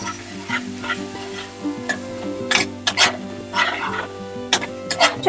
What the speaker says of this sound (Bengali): তেলে পেঁয়াজটা দিয়ে ভালো করে একটু ভাজবো লাল লাল করে